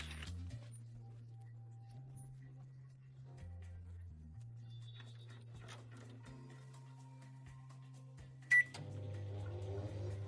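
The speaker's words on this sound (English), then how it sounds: "send this frozen thing into the microwave for exactly 10 minutes" A microwave oven runs with a steady low hum while heating frozen Italian spinach cannelloni, the drone shifting pitch slightly at intervals, with a sharp click near the end before the tone changes.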